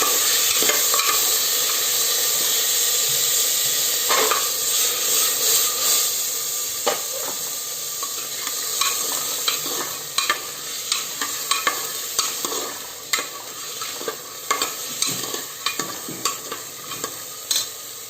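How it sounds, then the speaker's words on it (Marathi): Chickpeas with salt fry and are stirred in a pan: a loud, close hissing sizzle runs throughout, with repeated sharp spatula scrapes and knocks that grow more frequent toward the end. "हे साधारण 3 ते 4 मिनिटं छान फ्राय करून घ्यायचं।"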